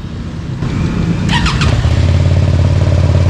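A Racal V-Maxter 250 or QH 250 motorcycle engine idling close and loud, with a steady low rumble that rises after a quick blip of the throttle and then settles into a deeper, throbbing idle.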